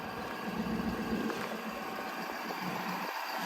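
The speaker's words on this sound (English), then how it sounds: "It just sounds like a true diesel in my opinion." A 2023 Ford F250 XL with a Powerstroke diesel engine idles in a steady low rumble, a continuous broadband hum with no talking over it.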